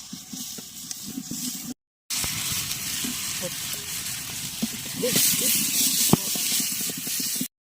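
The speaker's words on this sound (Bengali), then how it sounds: "আলুটাকে ভাজিয়ে নেওয়া হচ্ছে।" Potato pieces fry in hot oil with onion and garlic in a pot, giving a continuous close sizzle with crackles and spits, briefly cutting out before resuming and swelling louder near the end.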